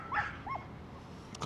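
A dog chained up outdoors during a fashion shoot at Coney Island gives a couple of brief whimpering yips, faint and somewhat distant over quiet street ambience.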